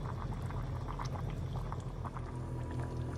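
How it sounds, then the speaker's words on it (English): Lasagna sauce simmering in a pot, a steady low bubbling burble with soft pops throughout, close and continuous with no talk. "Our lasagna is simmering away, the sauce is"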